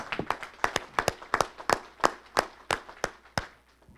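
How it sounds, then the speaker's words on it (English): A small group claps at a school Terrific Kids ceremony, sparse and distinct hand claps in an uneven rhythm that thin out and fade toward the end. "we'd like to give you all a round of applause"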